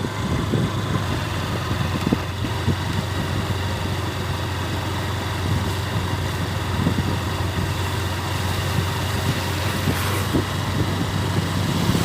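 Steady road noise of many passing vehicles, heard from a pickup loaded with onions, with a continuous low engine rumble and idling hum running the whole time and no talk.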